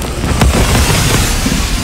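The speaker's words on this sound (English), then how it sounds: "The explosion radius on the kill streak. That was actually a perfect example." A kill-streak explosion in the Black Ops 3 video game, a loud sustained boom with rumbling low end and crackling debris lasting nearly two seconds, dense and near with no talking.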